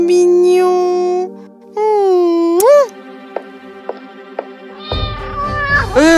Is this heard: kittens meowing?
yes